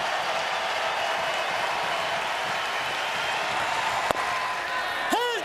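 A college baseball crowd at Murray State vs UCLA cheers and applauds in a steady, broad roar, with a sharp crack and a brief whistle-like sweep near the end.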